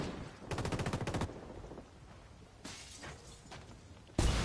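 Video game gunfire: a rapid machine-gun burst of evenly spaced shots, then quieter scattered distant fire and a sudden loud shot at the end, with no talking.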